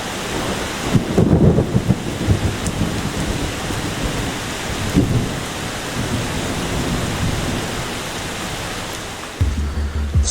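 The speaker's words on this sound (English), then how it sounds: "the sound of the rain while I work here is glorious" Heavy rain falls near Mt Fuji in Japan with thunder rolling through, a loud constant wash of downpour broken by deep rumbles near the start and middle, with no voices.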